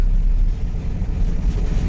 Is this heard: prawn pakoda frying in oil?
no